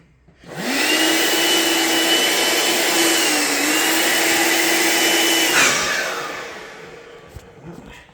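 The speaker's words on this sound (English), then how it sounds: "To speed things up, I'm going to use a blower and hopefully this will work" An electric blower inflating a Takacat 300 inflatable boat roars steadily and loudly with a constant whine for about five seconds, then winds down and cuts off, leaving faint handling sounds.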